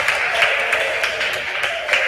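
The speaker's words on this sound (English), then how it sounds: "Clap for them" An audience at a regional junior school quiz contest applauds the teams, steady mid-distance clapping from many hands with a few sharper claps rising above it.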